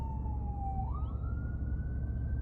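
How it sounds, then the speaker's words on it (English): An ambulance siren passes outdoors: a single sustained wailing tone that dips and then climbs in pitch, fairly loud and steady over a constant low rumble, with no one talking. "I think it's an ambulance, so hopefully nobody got hurt too bad."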